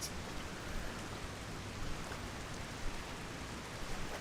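Rain in the video game Master Detective Archives: Rain Code, a steady broadband hiss of falling rain with no breaks and a few soft drop-like ticks scattered through it.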